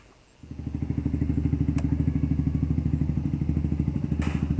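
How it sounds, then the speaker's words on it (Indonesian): A 2014 Honda CBR150 motorcycle on a test ride starts up after a quiet moment and settles into a close, rapid, evenly pulsing engine beat that carries on to the end. "Oke, sekarang saya akan test ride motor ini"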